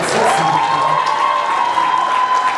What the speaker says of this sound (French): Encore une fois, on applaudit notre Miss sympathique.